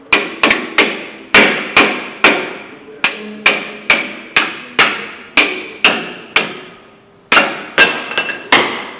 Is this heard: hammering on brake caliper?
yes